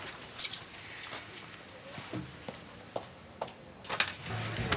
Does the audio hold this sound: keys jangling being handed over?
yes